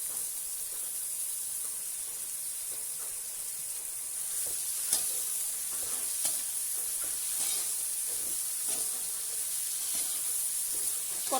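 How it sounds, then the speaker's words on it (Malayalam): Finely chopped onions sautéing with salt in a pan, a steady close sizzle and hiss with occasional soft stirring clicks throughout, no voices. "കുറച്ച് ഉപ്പും കൂടെ ചേർത്ത് അടച്ചു വെച്ച് നമുക്ക് വഴറ്റിയെടുക്കാം"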